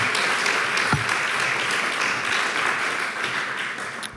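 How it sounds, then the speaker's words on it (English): Sustained audience applause for two panel speakers at a climate-and-health talk, dense and steady throughout with no voices on top, fading slightly at the very end. "Please a warm round of applause for Saskia and Amrish."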